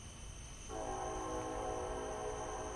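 A passing train sounds its horn, a loud sustained multi-tone blast that swells in abruptly and holds steady over constant rumbling rail noise.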